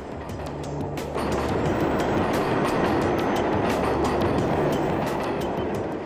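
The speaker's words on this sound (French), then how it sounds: "sous les pieds des passants, le ventre de New York émet un sourd grondement métallique" Loud, continuous rumble and rattle of a New York subway train running underground, with rhythmic clicking of wheels over the tracks throughout.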